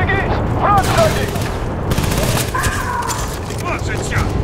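Gunfire rattles in the video game Battlefield Bad Company 2 as repeated bursts and booms in a combat scene, loud and close, with voices shouting over the shooting.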